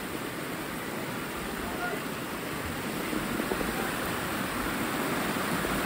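Loud, steady roar of rushing floodwater from the overflowing San Miguel River in Tatalon, Quezon City, fills the whole clip, a dense broadband wash growing slightly stronger toward the end.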